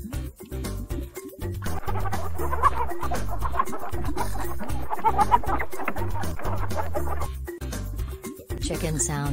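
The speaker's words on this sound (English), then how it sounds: "Chicken sounds cluck." A chicken clucks repeatedly in quick bursts, mixed into a rhythmic children's song with steady backing music.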